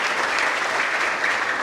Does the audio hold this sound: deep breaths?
no